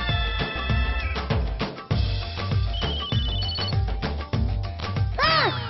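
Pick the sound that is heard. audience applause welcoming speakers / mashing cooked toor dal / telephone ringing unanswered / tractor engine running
telephone ringing unanswered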